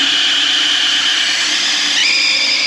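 An electric drill spins an engine's oil pump to prime it and push oil through the engine, giving a loud, steady, high-pitched whine that holds constant and then shifts slightly higher near the end, with no talk.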